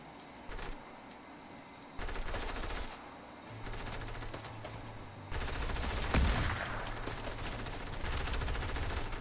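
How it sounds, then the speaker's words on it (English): Automatic gunfire from bot players in Fortnite, heard as repeated rattling bursts of shots at moderate distance, with a steady game soundscape running throughout. "His bots are firing at me now"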